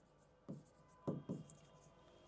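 Pen strokes on a board or paper during a chemistry lesson, a few short scratchy bursts in quick succession, quiet and close, with no speech.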